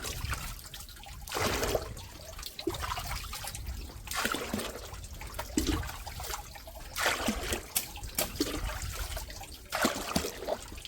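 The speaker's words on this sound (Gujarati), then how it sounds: "આખી ડોલ ભરાઈ જાય" Steady trickling and splashing water, running continuously into a container at close range with some louder gushes.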